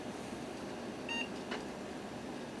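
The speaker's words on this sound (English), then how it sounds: "Beep." A Gateway E1400 small-form-factor computer gives a single short electronic POST beep over a steady hiss of fan noise, followed by a faint click.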